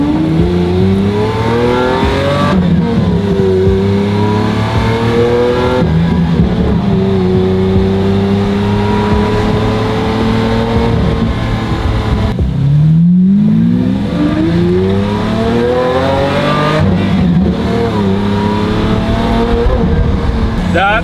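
The engine of a Mercedes G63 4x4 drones loud and steady while the vehicle drives on city streets. Its pitch rises and falls through gear changes, with strong rumbling acceleration throughout, and someone talks over it.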